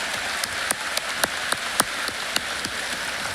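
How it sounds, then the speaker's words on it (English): Crowd applause at a high school graduation ceremony, a dense steady wash of many hands clapping, with a few louder individual claps standing out, sustained throughout with no talking. "more round of applause for those wonderful words."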